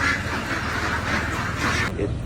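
Ducks quack close by in a steady, nasal chorus of overlapping calls that runs the whole way through, briefly dipping near the end.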